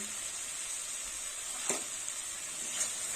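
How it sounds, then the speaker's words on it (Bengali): Spices frying in a pan for a vetki fish bone curry with tomato paste and salt, giving a steady, fairly quiet sizzle with a couple of brief louder crackles. "মশলাটা ভালো করে কষে নিই।"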